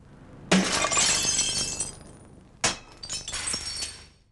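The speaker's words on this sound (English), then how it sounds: "3M offered to demonstrate how easily annealed glass will shatter into deadly shards." Annealed glass shatters into shards with a sudden loud crash and tinkling debris, then a second smash follows a couple of seconds later, both sharp and close.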